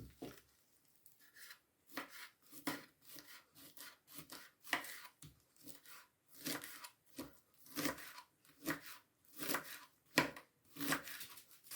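Knife chopping boiled eggs and parsley on a wooden board for a quick salad, a run of irregular close thumps and scraping cuts coming in bursts, with no talk.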